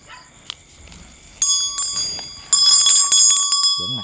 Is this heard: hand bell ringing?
yes